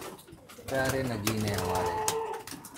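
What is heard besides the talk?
pigeons cooing in a pigeon loft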